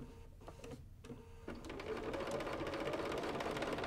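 A home sewing machine stitches quilting lines on a quilt top, starting with a few short bursts and then running in a steady, fast, continuous whir at close range.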